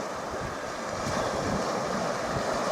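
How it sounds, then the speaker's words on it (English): Steady easterly to southeasterly wind blows across the shore at Llwyngwril, a continuous broadband rush with surf-like wash and mic buffeting, loud and even throughout with no voices. "The wind today is a bit of an easterly"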